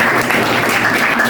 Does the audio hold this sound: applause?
yes